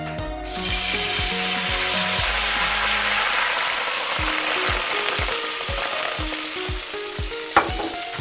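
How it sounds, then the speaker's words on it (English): Wine hits a hot pan to deglaze it, and a sudden loud sizzle bursts up close and keeps hissing steadily, with faint scraping and clinks under it. "To start our deglazing process, we're gonna use a bit of wine"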